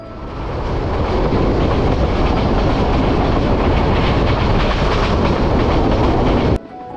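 Loud, steady rumble of the Cox's Bazar Express passenger train running on the tracks between Chattogram and Dhaka, with rhythmic clatter throughout, cutting off abruptly near the end.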